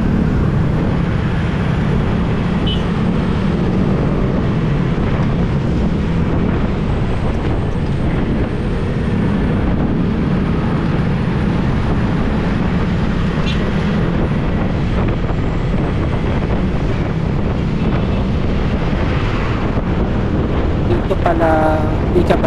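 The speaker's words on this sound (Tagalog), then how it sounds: "Pero kasi mabagal talaga itong truck sa unahan namin." A slow truck rumbling along the road ahead on a motorcycle ride from Quezon City to Calatagan, Batangas, heard as a constant loud engine drone mixed with heavy wind noise throughout.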